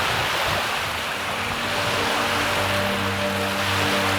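Small waves slap and wash around a swimmer in open water during an XTERRA world championship race, a steady close splashing rush with low sloshing underneath and no pauses.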